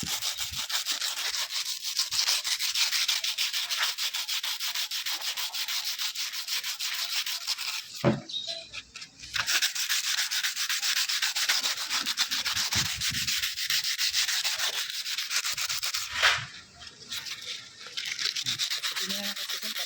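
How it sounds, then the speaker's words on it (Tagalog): Steady, coarse scraping of 60-grit sandpaper rubbing rust off a Yamaha Sniper 150 metal part, back and forth, continuous and close, with two brief pauses. "Ang gagawin nyo dito, lilinisin ang liha. So, ito na yung liha natin."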